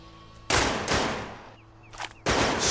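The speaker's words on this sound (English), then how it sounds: "So as a safety measure, shooters use wax bullets." Two sharp, loud revolver shots from a fast draw contest using wax bullets, each a sudden close blast with a short decaying tail, separated by a quieter gap of background noise.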